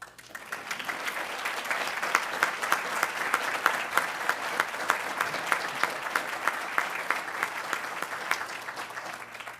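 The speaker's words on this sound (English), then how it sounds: "You can applaud." Sustained, dense audience applause fills a graduation commencement ceremony at a state medical university, steady and loud throughout with no speech over it.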